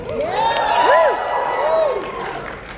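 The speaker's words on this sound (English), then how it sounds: "I like how every prize gets a clap" Crowd at a cosplay masquerade at Anime Los Angeles cheering with rising and falling whoops and shouts for a prize announcement, steady and fairly loud throughout; any clapping is buried under the voices.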